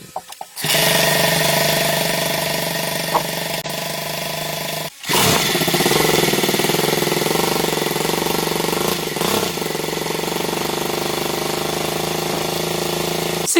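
A six-stroke engine runs steadily and loudly up close, cutting out briefly before restarting and continuing at a constant idle-like drone.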